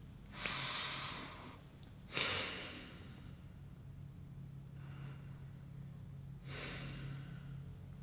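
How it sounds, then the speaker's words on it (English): Three or four deep, breathy exhalations at the close of a group guided breathing meditation, each a broad airy rush lasting about a second, spaced apart over a steady low rumble, with no talking. "Now come back with a few deep and clearing breaths."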